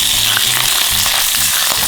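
Diced pork jowl sizzling in butter in a hot pan for Korean soondubu jjigae, a steady bright crackling fry with a few soft stirring bumps, close and alone.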